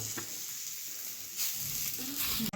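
Beans, tomato and potato roasting dry on a hot tawa, a steady close sizzle and crackle with a faint scrape near the end, no talking.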